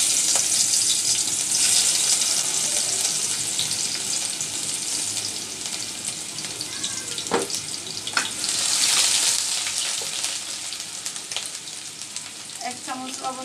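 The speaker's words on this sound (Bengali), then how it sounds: "সবার আগে আমি আদা রসুনটার ফোড়নটা দিয়ে দিব।" Ginger and garlic splutter and fry in hot oil for a pickle, with a loud continuous sizzle that rises and falls and a few sharp pops and clinks near the end.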